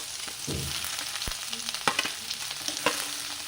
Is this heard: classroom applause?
no